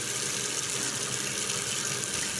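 Water runs and splashes steadily as freshly dyed wool yarn skeins are pressed and squeezed out over a kitchen sink, a constant close, bright gush with no pauses and no talk.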